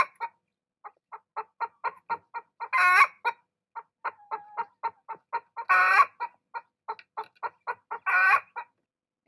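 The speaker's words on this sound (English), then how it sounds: "after every successful egg is laid, it's followed by an egg song." Hen on a ranch calling out her egg song after laying, a long run of close, sharp rhythmic clucks building into three loud drawn-out squawking cackles, repeated in a clear pattern.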